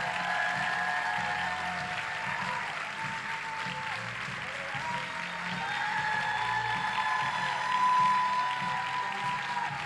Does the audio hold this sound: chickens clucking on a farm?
no